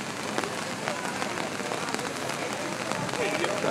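Steady rain falls on an outdoor protest march in Haleiwa, a dense, even hiss of drops on surfaces lasting throughout, with faint crowd sounds and distant voices mixed underneath.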